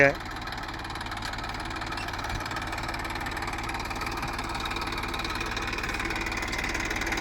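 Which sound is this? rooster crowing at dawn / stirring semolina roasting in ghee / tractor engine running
tractor engine running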